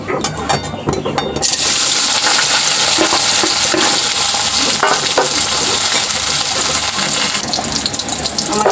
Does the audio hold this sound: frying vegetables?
yes